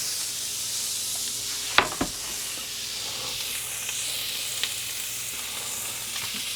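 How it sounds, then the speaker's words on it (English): Steady frying sizzle and hiss of two chicken breasts in a hot pan, with a couple of sharp clinks early on and softer pops throughout. "See, so they're just gonna let them sizzle about 3 to 4 minutes."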